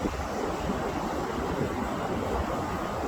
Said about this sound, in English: the waves are just gorgeous